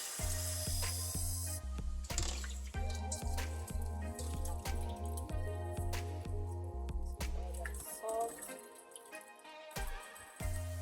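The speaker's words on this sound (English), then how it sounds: "we're going to add water to our saltfish" Water runs from a tap onto salted fish for a Jamaican callaloo with saltfish and okra. It makes a steady spraying, splashing patter over a constant low hum, with brief drips and clatters, and no talk.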